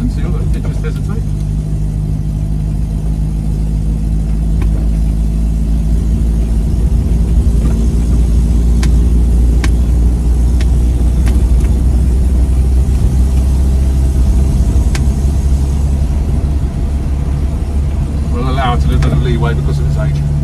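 A 1955 Fiat 500C Topolino convertible saloon with a four-speed gearbox runs steadily with a low, constant engine drone that stays loud and close throughout, while someone talks over it.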